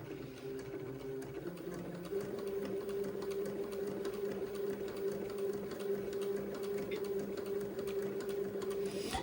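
A sewing machine runs slowly and steadily, stitching quarter-inch piping with a zipper foot on an Eton suit, a continuous close mechanical hum with a rhythmic needle tick throughout.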